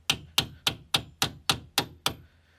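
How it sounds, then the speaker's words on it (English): A hammer strikes a metal part on a Daihatsu Charade brake eight times in a steady, even rhythm, each blow sharp and ringing briefly, close and loud. "I think I'll be smacking this one out with a hammer as well."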